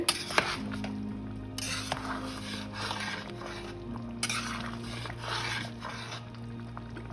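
Vegetable biryani being stirred in a cooking pot: a utensil scrapes and clinks against the metal in irregular strokes over a low steady hum, fairly close.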